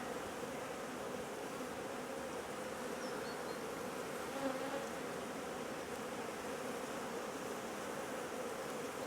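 Honey bees buzzing around a hive, a dense, continuous droning hum from many insects close by, steady in loudness throughout with no voices.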